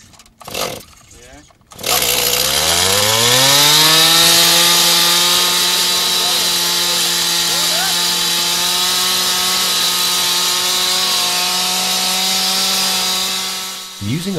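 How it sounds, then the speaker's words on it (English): A loud rock drill bores into weathered rock in the Sahara, revving up and running steadily with a droning, high-pitched whine for over ten seconds, then winding down near the end. "Using a rock drill, the outer weathering zone is easily penetrated."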